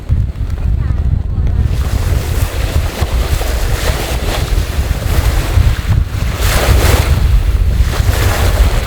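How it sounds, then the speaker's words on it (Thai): Strong wind buffets the microphone at a lakeside campsite by the Kra Siao dam, a loud continuous roar with gusting surges and a low rumble of lapping water throughout. "แม่งอยากกับทะเลอะคือลมมันแรงมาก"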